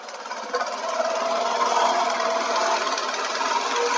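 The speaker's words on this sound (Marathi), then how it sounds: "हा आला ट्रॅक्टर नांगरणी करायला" A tractor engine runs for ploughing a field, a steady broadband rumble that swells slightly as it draws nearer and holds loud and close, with no voices.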